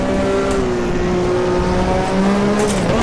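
Ninja Turbo F1 racing car in a video game, lapping Adelaide as it downshifts: a loud, continuous engine note with harmonic tones that dip and shift as the gear changes, close up and with no talk over it.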